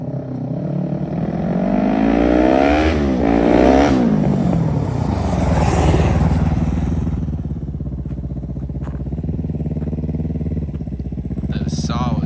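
A modified motorcycle on a test ride revs hard close by, rising and falling through several throttle sweeps, then settles into a rough, steady idle with a faint clatter.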